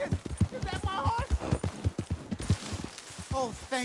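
Horse hooves clip-clop steadily in Red Dead Redemption 2, a quick rhythmic patter of steps, while people talk over it.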